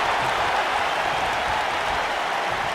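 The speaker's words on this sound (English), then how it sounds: "This capacity crowd is beside itself." An arena crowd roars in WWE 2K19, a continuous loud wash of cheering and applause that holds steady without talk.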